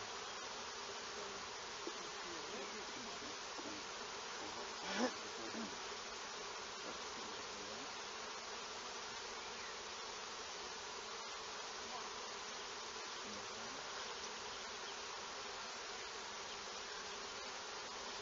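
Dense, steady buzzing of many honeybees clustering at a teaching apiary hive as a frame is handled, a continuous hum with no pauses, close and even throughout.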